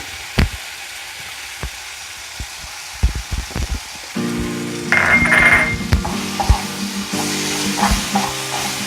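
Spoon stirring tomato chutney with chili powder in a frying pan, scraping clicks over a soft sizzle that grows denser and louder partway through, close and without talk.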